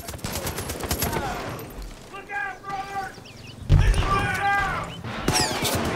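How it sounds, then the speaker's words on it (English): In Far Cry 5, a fusillade of gunshots and bullets crack in clustered bursts, some loud and close, mixed with game clamor and a voice speaking over the firefight. "Bullets flying everywhere."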